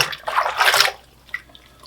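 Running water splashes over a reusable Trend Air Stealth N100 respirator part as it is rinsed, a close, bright gush lasting under a second before fading to a few faint drips.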